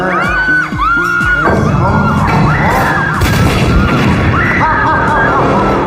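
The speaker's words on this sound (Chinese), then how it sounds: "突然一阵爆炸" A sudden loud boom bursts out and gives way to a dense, noisy rumble, with cartoonish voices and music-like tones before and around it, in an animated cartoon.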